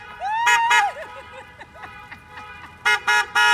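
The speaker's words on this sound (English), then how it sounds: "my mom set up a honk and wave drive-by graduation parade" Car horns honking at a drive-by graduation parade, with several short loud toots early on and a quick burst of three at the end, plus a rising squeal and scattered faint voices in between.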